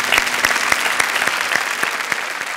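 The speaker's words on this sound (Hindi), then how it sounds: "इस बात पे तालियां।" Studio audience of a Hindi television talk show breaks into applause, a dense, steady wash of many hands clapping, close and loud, with no talk over it.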